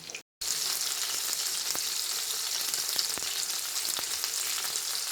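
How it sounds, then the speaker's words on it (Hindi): Peshawari chapli kababs fry in a pan with a dense, even hiss of hot oil that stays close and constant after a brief gap at the start, with a few light utensil clicks scattered over it. "अब हम इन्हें प्लेट पे निकाल लेंगे और बाकी के चपली कबाब भी इसी तरह फ्राई कर लेंगे।"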